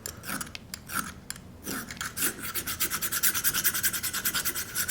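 A Leatherman file rasps along the edge of an ION 10-inch ice auger blade, first in scattered scrapes, then in a quick, steady run of short, even back-and-forth strokes, close and fairly quiet.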